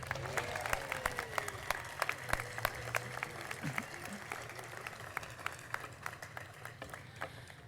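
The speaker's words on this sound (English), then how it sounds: "Let's give another round of applause to the All-City Band." Outdoor applause at a Norwalk Memorial Day ceremony for the All-City Band, scattered crisp claps over a hum of crowd murmur and faint voices, moderately distant and sustained.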